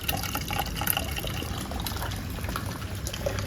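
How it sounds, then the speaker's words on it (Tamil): Starchy cooking water poured off freshly cooked rice in a rainy outdoor kitchen, a continuous close splashing stream with small gurgles and no pauses. "சரி வடிச்சிடுறேன், வடிச்சுட்டு அடுப்பில் வைக்கிறேன்."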